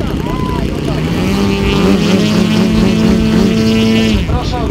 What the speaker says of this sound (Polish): Wszystkie modele posiadają silniki spalinowe o pojemności powyżej 100 cm sześciennych.